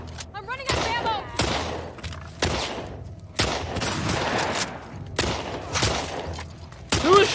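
Gunfire in The Last of Us Part 2, with about seven sharp, loud shots at irregular intervals and a faint voice in the gaps.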